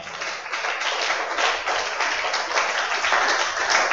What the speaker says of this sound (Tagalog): Mahina ang palakpak.